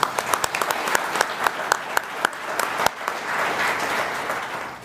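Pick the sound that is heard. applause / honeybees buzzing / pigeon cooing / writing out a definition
applause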